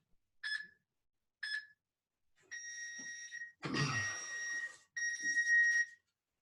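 A workout timer sounds close and loud: two short beeps, then longer sustained tones, a harsh buzzer blast and a final long tone, with no voices.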